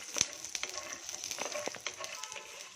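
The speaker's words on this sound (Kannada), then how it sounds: "ಒಂದು ಬೌಲ್ ಕಡಲೆಕಾಯಿ ಬೀಜ ಹಾಕ್ತಾ ಇದ್ದೀನಿ ಇದನ್ನು ಅದೇ ರೀತಿ ಬಾಡಿಸ್ಕೊಳ್ತೀನಿ" Peanuts dry-roasting in a pan without oil, a steady crackling sizzle with scattered small pops and stirring scrapes, close and moderately quiet, no voices.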